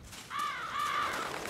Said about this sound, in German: Weg, ihr Vögel.